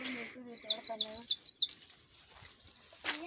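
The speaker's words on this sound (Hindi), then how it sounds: "हमारे यहाँ पे पंछियों की बिल्कुल भी कमी नहीं है। देखो आप सुनो कैसे।" Small birds in a village chirp in a quick run of high, bright tweets, with a lower, tonal animal call at the start and a short burst of rustling noise near the end, all fairly close.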